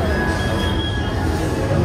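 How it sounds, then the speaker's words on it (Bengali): A children's ride train runs inside a shopping mall in Russia. It makes a steady rolling rumble with a thin, high squeal drawn out over the noise of a busy indoor space. "এটা হচ্ছে বাচ্চাদের ট্রেন।"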